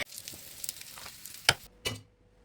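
Fish frying in a pan for a Kerala-style rice meal: a steady low sizzle of hot oil runs throughout, broken by a few brief louder crackles and spatters.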